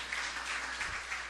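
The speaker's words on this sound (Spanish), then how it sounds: "ríndele una fuerte ofrenda de aplauso" A church congregation applauds, steady dense clapping that fills the short moment at an even level.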